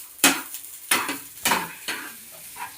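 Prawn fried rice is stirred in a pan, four or five distinct scraping strokes of the spatula over a soft sizzle, close and without talk.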